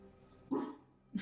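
A dog barks twice in quick succession, two short, fairly close yaps separated by a brief pause, heard through a played recording with faint background hum.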